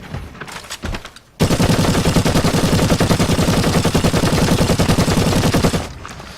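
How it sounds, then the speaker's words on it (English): Heavy bolter gunfire in a video game: a few scattered shots, then a loud, sustained rapid burst of fire lasting several seconds before stopping abruptly, heard alone with no talk. "Heavy bolter again."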